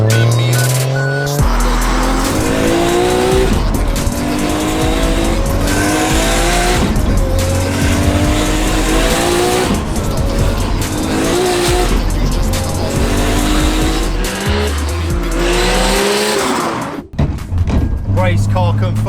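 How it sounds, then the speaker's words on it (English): Race car engine revving hard with repeated gear-change pitch sweeps and tire squeal, loud and close throughout, with talking over it and a brief drop near the end. "Race car confirmed."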